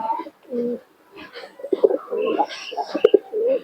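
Giribaz pigeons from Murshidabad coo in a series of soft, throaty calls at close range, with short pauses between them and no talk over the birds.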